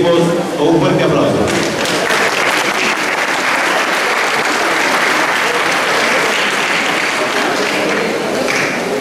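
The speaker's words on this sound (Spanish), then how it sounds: "rector, el doctor Eladio Angulo Altamirano, a quien recibimos con un fuerte aplauso." Strong applause from an audience at a university auditing event welcoming the rector, dense sustained clapping from many people, close and loud, with talk mixed in underneath.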